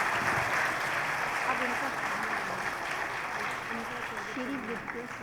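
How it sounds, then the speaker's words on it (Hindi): A crowd of students at a girls' college Independence Day cultural program in Karol Bagh gives a steady wash of applause to welcome guests, with some voices murmuring underneath. "जोरदार तालियों से बच्चे स्वागत कीजिए।"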